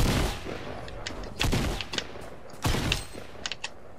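Gunfire in the video game Fortnite, with a few sharp broadband shots and several small clicks and mechanical taps between them, loud and close, with no talk.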